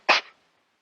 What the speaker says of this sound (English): Can a ghost sneeze?